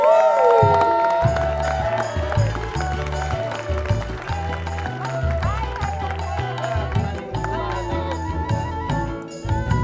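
Studio audience at an Indonesian television talk show applauding and cheering for a guest, the crowd noise sitting under loud, steady band music with a thumping bass line that runs through the whole stretch.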